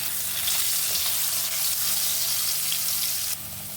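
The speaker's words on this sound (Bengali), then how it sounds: "দিয়ে আলুগুলো একটু ভেজে নেব" Potatoes frying with turmeric and salt in a pan for mochar ghonto, a steady close hiss of oil sizzling with a faint low hum underneath, with no voices.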